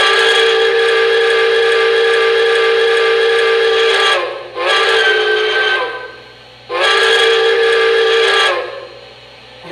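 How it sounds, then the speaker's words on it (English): The whistle of an MTH Rail King M1a model steam locomotive sounds loud and close in three long blasts, the first sustained and the later two shorter, with a low hum beneath. "All right, first up, let's check out the whistle."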